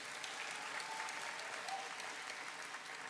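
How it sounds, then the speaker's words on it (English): A crowd at a university graduation ceremony applauds steadily, heard faint and distant as an even wash of clapping throughout. "Another big cheer."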